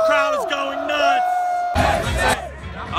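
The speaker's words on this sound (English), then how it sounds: "The crowd is going nuts!" A college game day crowd erupts in loud, wild cheering and yelling, with a sustained whooping tone first and then a dense burst of roaring voices that fades slightly toward the end.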